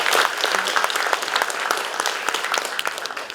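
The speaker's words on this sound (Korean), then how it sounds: "세 분에게 공통 질문 해주신 이 두 분께 감사의 박수 부탁드리겠습니다." A seated audience at a Guro district mayoral candidate policy debate claps in thanks, a sustained crowd applause with sharp individual claps standing out, fairly close and loud, without speech.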